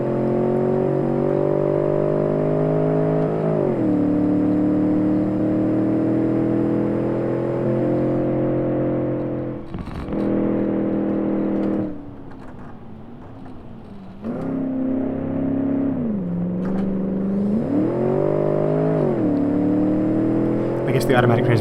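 A 1988 Bay12 Motors car with automatic transmission accelerating hard through corners in BeamNG.drive: a loud engine whine climbs through the revs, drops off briefly around shifts and lifts, then surges again, with a voice talking over it.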